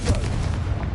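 Spell blast from Confringo in Hogwarts Legacy, a dense rumbling burst of booming, cannon-like game sound effects filling the whole second with sustained low-end energy.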